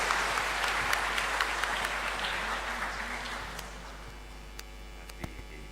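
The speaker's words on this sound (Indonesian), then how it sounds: "kita berikan tepuk tangan paling meriah untuk Romo Eko Wahyu OSC." Audience applause for a priest introduced as a speaker at a talk on the Christian family in the digital age, steady dense clapping from a crowd indoors over a mains hum, slowly thinning out toward the end.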